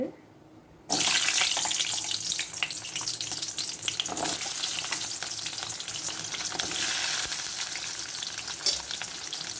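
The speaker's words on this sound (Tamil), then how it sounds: "சின்ன வெங்காயம், பூண்டு எல்லாத்தையும் கொஞ்சம் நல்லா வதக்கிக்கலாம்" Shallots and garlic sautéing in hot oil for a Tamil eggplant curry, a loud steady sizzle that bursts in abruptly and keeps crackling close up, with faint stirring scrapes under it and no talk.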